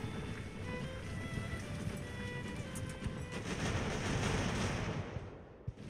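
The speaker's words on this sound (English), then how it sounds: "The cannons are really giving us a hard time." Naval cannon fire in the game Ultimate Admiral: Age of Sail, a dense continuous rumble of distant booms and crackling gunfire over a thick battle din, loud and unbroken, without talk.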